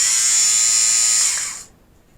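A rechargeable electric fabric shaver debobbling a garment buzzes in a steady, loud, close high whine, then cuts off abruptly near the end, leaving near silence.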